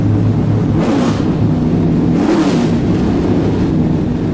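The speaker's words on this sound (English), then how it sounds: "That's unbelievable. That's an engine there." The engine of the No. 48 NASCAR race car revs loud and close, a dense rumbling roar that swells in two surges and holds steady, with no talk over it.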